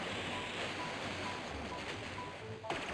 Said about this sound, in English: it sounds like we caught on a water type Hydro Cannon